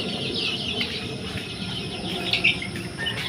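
Roosters and hens on a poultry farm, clucking and calling faintly amid a steady wash of insect-like background noise, with a brief louder burst near the end.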